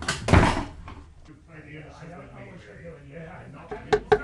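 A door slams shut in an audio drama adaptation of Treasure Island, one loud close thud at the start, followed by quiet voices talking and a couple of sharp knocks near the end.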